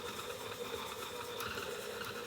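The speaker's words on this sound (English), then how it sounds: "Stick that in your magical mixing machine and let it go. Do it slow at first." An electric mixer creams brown sugar and soft butter for fruitcake on a slow setting, giving a faint, steady mechanical whir with an even hum and no talking.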